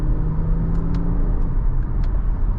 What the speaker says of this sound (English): I can't really go fast now, but try to downshift